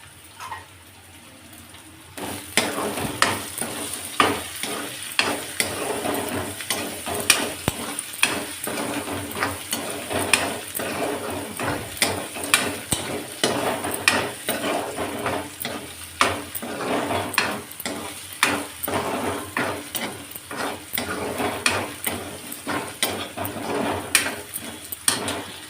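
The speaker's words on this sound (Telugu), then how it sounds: "ఇప్పుడు బాగా కలుపుతాను" Coriander powder being stirred into a frying dish, a continuous sizzle with repeated scraping strokes of a spoon against the pan in an irregular rhythm, close and fairly loud, no talking.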